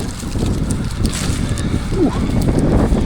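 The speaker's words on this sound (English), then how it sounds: "you see how windy it is on the coast" Strong coastal wind at Seaham buffeting the microphone, a loud continuous low roar with gusty surges throughout.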